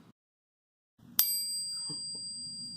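A single bright ring from a bicycle bell, close and clear, its metallic tone lingering and decaying slowly over a low background rumble after a moment of near silence.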